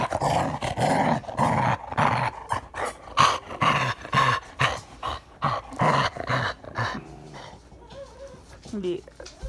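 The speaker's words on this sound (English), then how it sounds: "Oh, you're a ferocious pup." A playful puppy growls and grumbles repeatedly in short bursts while a person talks over it in an affectionate voice, close and clear.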